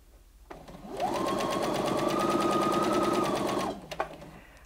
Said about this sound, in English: the machine will automatically sew a reverse stitch to secure the seam